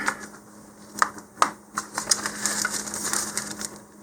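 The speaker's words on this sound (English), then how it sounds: "Now this one's got a little bit of flash in it, so I'll just take a hobby knife and cut that out." A hobby knife trims plastic flash from a model rocket nose cone, giving a run of small, close, dry clicks and scrapes that are irregular and fairly quiet, with no talking.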